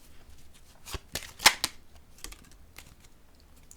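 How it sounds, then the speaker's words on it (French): Cards are handled and laid down on a table, giving a few soft, sharp taps and flicks, a crisper snap in the middle, then quieter scattered touches, close by. "Je vais déposer une carte ici."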